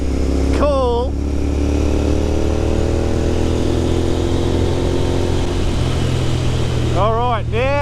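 Royal Enfield Continental GT 650 twin motorcycle running steadily while riding on a road, a constant engine drone throughout, with short bursts of speech at the start and near the end.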